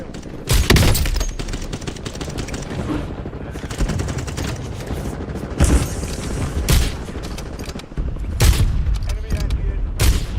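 An enemy squad fires at the player in a video game, sustained bursts of gunfire and booming impacts that rattle on almost nonstop at close range, with a few heavier blasts cutting through.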